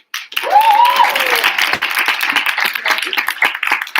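Audience applause for election applicants at a student organisation meeting, a sustained burst of clapping filling the room from the start, with a brief voice or whoop rising over it early on.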